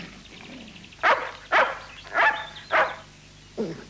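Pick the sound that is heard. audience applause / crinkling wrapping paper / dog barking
dog barking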